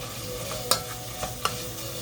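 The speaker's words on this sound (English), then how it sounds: "So our meat is browning pretty good. So that's still cooking down." Ground meat for a quick chili browns in a pan with a steady, close sizzle. A few light scrapes from a utensil break through now and then, and no one speaks.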